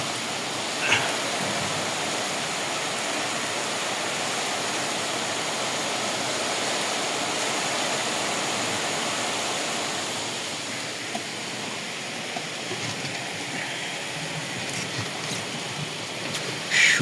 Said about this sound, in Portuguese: Chuva que molha.